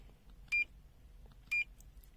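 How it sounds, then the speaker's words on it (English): Two short electronic alarm beeps, about a second apart, from the non-contact voltage (NCV) function of a BSIDE O1 CATIII 600V 6000-count multimeter, clear and close over faint background hiss. "Now it's a NCV alarm function."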